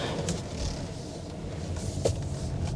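2024 Nissan Qashqai e-POWER hybrid driving on the road, heard as a low steady cabin rumble of tyres and motor, quiet and even, with no talking.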